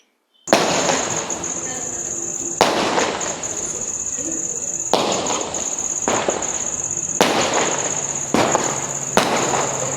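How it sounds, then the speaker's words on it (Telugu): Firecrackers burst during Diwali celebrations in a residential colony, a string of loud, sharp bangs every couple of seconds over a steady crackling hiss and a high whistling tone, with no talking. "మా కాలనీ దగ్గర మాత్రం అందరూ ఫుల్గా క్రాకర్స్ పేలుస్తున్నారు, మీరు కూడా చూసేయండి"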